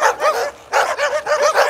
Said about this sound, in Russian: Вот видите, сколько в Казани собак.